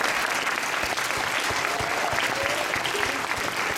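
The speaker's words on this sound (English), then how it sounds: "You can get applause for that." A crowd at a pro-life youth conference breaks into steady, full applause, with dense clapping holding at an even level for several seconds.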